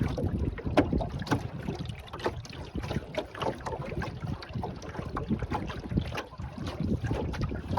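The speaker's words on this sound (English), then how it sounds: "It makes such a nice sound going through the water." A small wooden plank-built sailboat moving through open water, with irregular splashes and lapping against the hull over a steady bed of wind noise, close and fairly soft.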